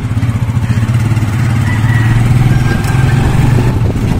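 A motorcycle weighed down with riders aboard, its mid-pitched engine chugging steadily and loudly up close, with a rhythmic pulsing throb and no talk over it.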